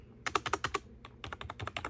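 Typing on a Havit LED gaming keyboard: two quick bursts of crisp, close key clicks with a brief pause between them, no voices.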